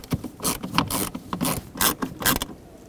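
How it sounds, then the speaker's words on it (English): Two screws being driven into the hood latch lever of a 1995-2004 Toyota Tacoma, heard as close, bursty rasping and ratcheting strokes in quick succession with short pauses, loud and alone without talk. "we're gonna have to try to start the two screws in"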